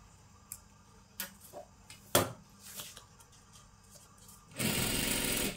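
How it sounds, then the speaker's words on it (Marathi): Scattered handling clicks and rustles of fabric give way to a sewing machine running steadily as it begins stitching a salwar, a dense continuous whir that rises near the end. "इथून आपल्याला ही शिलाई करायला सुरुवात करायची"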